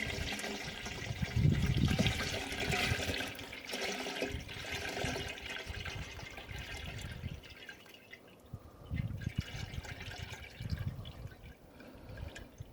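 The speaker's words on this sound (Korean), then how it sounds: "통을 또 물로 닦아놔야지." Water splashes and trickles while a container is rinsed out at an apiary, with running water, drips and sloshing at close range, fading to quieter dribbles.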